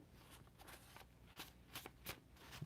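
Trading cards shuffled by hand at a live open-table card break, giving quiet repeated riffling bursts in an irregular rhythm, close and fairly faint.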